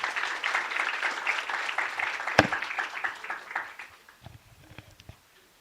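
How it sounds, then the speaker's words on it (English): An audience at an international digital business workshop claps for a few seconds after a speaker is introduced, a dense patter that is loud at first, then thins out and fades to scattered claps. "Give applause"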